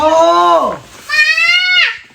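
A toy sheep gives two bleats, the first wavering and falling in pitch, the second higher and more sustained, both loud and close with a short gap between them.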